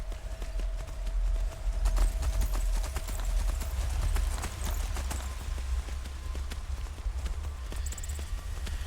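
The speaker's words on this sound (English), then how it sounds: "Traveling via horse and carriage." Horse hooves clip-clop at a steady trotting pace over a constant low rumble, continuing throughout without pause; a horse and carriage travelling in the video game Skyrim.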